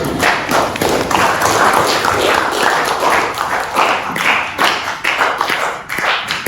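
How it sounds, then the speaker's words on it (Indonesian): Classroom audience of students applauding together, a loud, dense and sustained clatter of many clapping hands lasting several seconds without a break. "kita kasih aplaus buat kita semua dulu"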